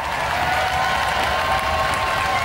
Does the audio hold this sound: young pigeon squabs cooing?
no